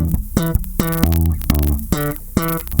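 Electric bass plays two bars of a riff, punchy plucked notes with short muted ghost notes between them in a tight syncopated rhythm, close and alone.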